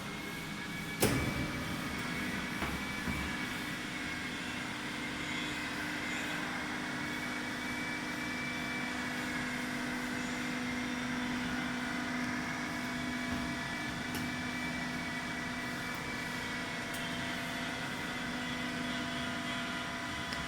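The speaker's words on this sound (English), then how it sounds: "Then we close the lid to test the vacuum." A 200L vacuum emulsifying mixer hums steadily during a vacuum test, a constant mechanical drone with faint tonal whine, preceded by a sharp knock near the start and occasional small clicks.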